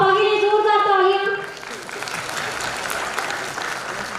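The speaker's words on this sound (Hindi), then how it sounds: "पापा के लिए जोरदार तालियां।" Applause bursts out from a crowd at an Army corps celebration after a voice on a held tone, a dense, steady clatter of many hands that carries on alone to the end.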